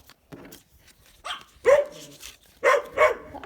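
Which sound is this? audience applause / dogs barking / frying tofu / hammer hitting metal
dogs barking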